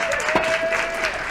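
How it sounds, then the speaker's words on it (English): An audience applauds the event crew at a live speedrun marathon: a short burst of dense, steady clapping from a crowd of people, loud and continuous with a faint tone running underneath. "Can we get a round of applause for the hardworking team back here?"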